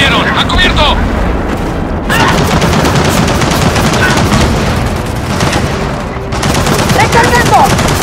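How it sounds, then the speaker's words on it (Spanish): Heavy, rapid machine-gun fire from nests in Gears of War 4 roars continuously and very loudly, with explosive booms and shouting voices in Spanish mixed in. "¡Nidos de ametralladoras!"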